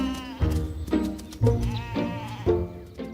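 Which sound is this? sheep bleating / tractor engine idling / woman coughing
sheep bleating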